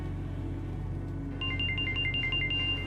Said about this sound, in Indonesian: Angkat tuh telepon tuh.